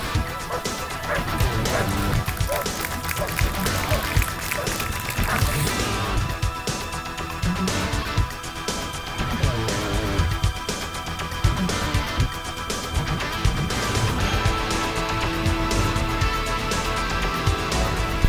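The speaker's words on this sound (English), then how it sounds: "Sir, stop fighting my dog and I'll call him off." A police K9 dog barks and snarls ferociously and continuously while attacking a decoy during a sheriff's department demonstration, loud and close with scuffling throughout.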